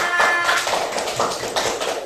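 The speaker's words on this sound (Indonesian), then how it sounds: "Tepuk tangan untuk kelompok dua." Classmates clap for a student group in a classroom, a brief scattered round of hand claps in uneven bursts, moderately close, with some shuffling and no talk.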